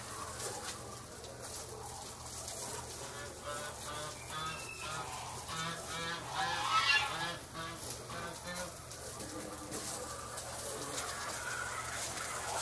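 Geese on an outdoor deck honk in a busy, overlapping chorus of repeated nasal calls, moderately close and steady throughout, with faint bird murmurs underneath.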